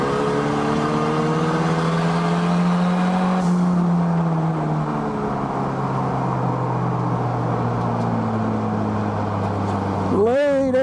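A car engine pulls hard through the upper rev range, its rising and falling harmonic drone loud and steady throughout, with a sharp rev flare near the end.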